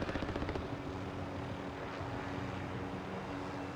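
A video game helicopter's rotor thumps rapidly at first, then settles into a steady droning whir, distant and moderately faint.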